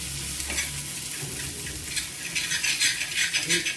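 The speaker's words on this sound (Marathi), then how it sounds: "ठेचा जो आहे त्याला थोडंसं हलवून घेते मी खाली चिटकायला नको म्हणून" Green chilli thecha is stirred in a pan with a spoon, giving scraping strokes over a soft sizzle, with quicker, louder scrapes toward the end; no voices.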